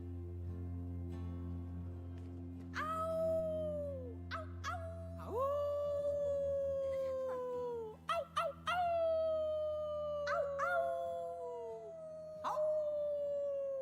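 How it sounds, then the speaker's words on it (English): Several long wavering howls from a canine pack in the video game Life is Strange 2, rising and sliding down in overlapping voices over a low droning music bed, loud and close throughout with brief breaks between calls. "I feel like these are not like weak howls."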